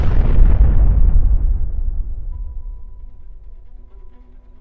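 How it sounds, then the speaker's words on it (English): A huge, booming explosion from a Fast & Furious movie stunt, sending vehicles flying, hits at the start, then rolls and rumbles away into a long fading decay. "triggered a giant explosion that sent the vehicles"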